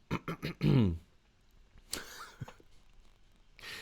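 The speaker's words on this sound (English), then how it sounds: "that was just me clearing my throat" A short series of harsh throat-clearing bursts up close, ending in a longer rough grunt, followed by quieter shuffling and faint noises.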